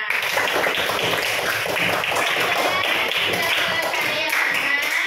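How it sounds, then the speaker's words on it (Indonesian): A class claps together in steady, continuous applause, a dense patter of hands lasting several seconds. "Tepuk tangan untuk kita semua."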